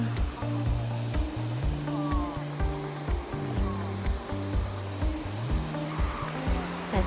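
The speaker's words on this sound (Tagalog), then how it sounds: "May bilis na yung alon na. Daming bato kasi." River current rushing over a stretch of many rocks, a steady broadband wash of flowing water with low rumbling pulses running under it throughout, continuous and fairly close.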